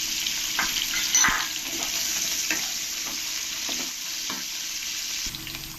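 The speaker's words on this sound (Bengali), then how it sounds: "এবার এর মধ্যে দিয়ে দেবো ক্যারেটগুলো দিয়ে ভালো করে আমি একটু ফ্রাই করে নেব" Carrots and potatoes fry with whole spices in hot oil for mushroom pulao, a steady close sizzle broken by scraping stirs of the pan, with no talking.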